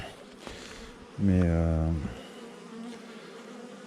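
A honeybee at a beehive makes one loud, close buzz lasting under a second, set against quiet background sound and a bit of speech.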